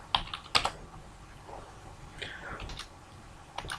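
Someone types a short word on a computer keyboard, giving a quick, uneven run of light key clicks, close and quiet, with a few sharper taps.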